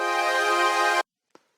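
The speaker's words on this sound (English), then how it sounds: "this is a minor ninth" A synth pad built from stock FL Studio plugins holds a rich minor ninth chord steadily for about a second, then cuts off abruptly, leaving a faint short click afterward.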